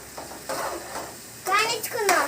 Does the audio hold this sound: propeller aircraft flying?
no